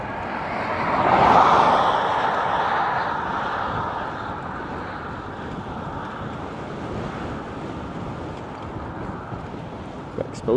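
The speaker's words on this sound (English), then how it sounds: "Exposed here, got a good crosswind." A steady crosswind rushes past a rider on an exposed stretch of road on a solar bike near Panevėžys, Lithuania, a broad roar that swells early and then holds level.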